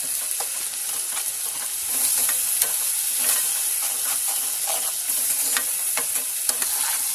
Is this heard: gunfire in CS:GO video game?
no